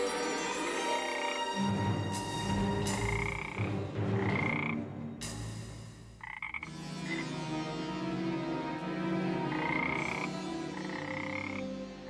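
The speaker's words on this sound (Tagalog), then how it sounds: "Kaya nga lang, isa na siyang palaka." A frog croaks repeatedly in a drama scene, with rhythmic, throaty calls coming in several bursts over a continuous ambient background.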